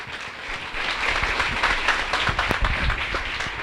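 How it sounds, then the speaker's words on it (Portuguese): A church congregation claps for the Lord during a worship service, a fairly close burst of many hands rising after a brief pause and continuing steadily, with no speech over it. "Vamos aplaudir ao Senhor, irmãos"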